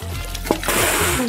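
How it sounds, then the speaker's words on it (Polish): A bucket of water is thrown onto a fire and splashes down in one loud burst, followed by sloshing and dribbling. "Tylko wiadro wody może ugasić ten ogień."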